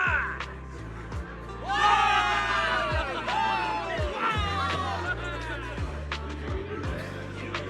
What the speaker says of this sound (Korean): 환호하라 병사들이여, 승리를 위해 환호하라.